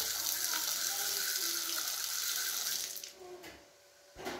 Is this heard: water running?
yes